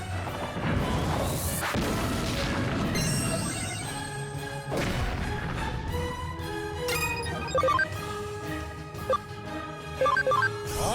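The Supreme Cannon attack in the Digimon Story Cyber Sleuth video game lands as a loud crash and heavy booming impacts, then fades into ringing, chiming synthetic tones.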